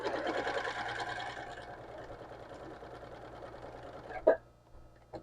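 Sewing machine stitching a strip onto a quilt block, a quiet rapid mechanical chatter for about four seconds that then stops, followed by a sharp click and near silence.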